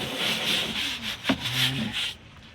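A stiff brush scrubs weathered teak wood coated in wood cleaner, steady rhythmic back-and-forth rubbing strokes close up with a brief knock midway, no talking.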